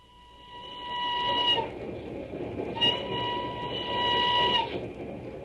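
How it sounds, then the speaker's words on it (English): A steady train rumble runs throughout, overlaid by sustained horn-like tones in two bursts, staged as a radio drama sound effect of a stuffy old passenger train carrying travellers toward London. "Oh, Dizzy, it's just this stuffy old train"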